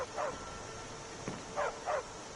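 Dog barking in Skyrim: a few short yips and barks in separate bursts over a low game ambience, moderately close.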